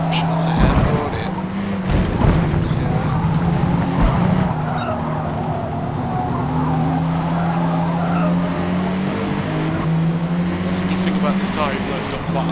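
Turbocharged race car in Forza Motorsport with a large inline four, engine droning and shifting pitch while tires squeal and skid early on, all under steady talking.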